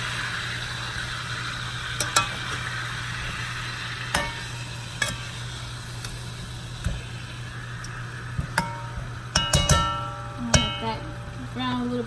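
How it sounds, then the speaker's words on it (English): Minced garlic browning in a pan with cauliflower rice and pollo guisado fixings, a steady low sizzle under repeated scraping stirs and clacks of a utensil against the pan, close and moderately loud, no talk. "now I'm going to mix that up while it's still browning"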